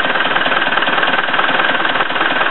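A Ford Transit Mk6 diesel engine idles close by with a steady, loud, knocking clatter that has no variation and no voices.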